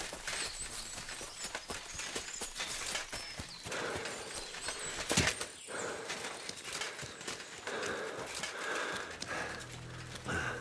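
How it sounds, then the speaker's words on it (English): Horses clip-clop at a fortress in Kingdom Come: Deliverance II, irregular hoof beats mixed with ambient clatter and a sharp knock midway, moderately close and with no speech. "Lovely horses you have here."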